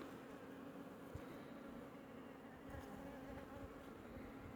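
Honeybees at an opened hive during colony splitting give off a steady, dense buzzing hum, close and even throughout with no voices.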